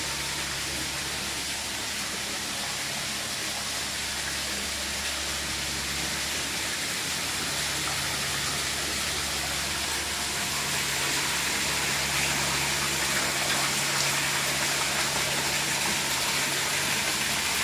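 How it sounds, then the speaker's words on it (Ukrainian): Water pouring into tanks during a test run of newly built shrimp farm equipment, a steady broadband rush over a low mechanical hum, continuous and unchanging throughout. "Зараз тільки почали набирати воду"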